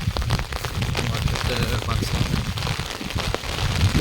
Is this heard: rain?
yes